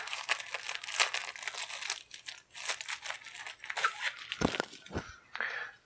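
Tape peeling and packaging crinkling as a 2018 G.I. Joe convention exclusive Python Patrol Para-Viper figure is unboxed, close and quiet, with uneven crackling and tearing bursts and a final few sharper rips.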